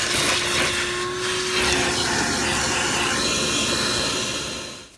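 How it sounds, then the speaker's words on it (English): A vacuum cleaner hisses and roars steadily close by while cleaning a car interior during a detail. The suction sound changes slightly in pitch as the nozzle moves and then cuts off at the end. "First is vacuum."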